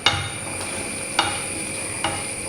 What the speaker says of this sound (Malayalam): ഇത് നമുക്ക് നന്നായിട്ട് ഇതൊന്ന് ഇളക്കി കൊടുക്കാം.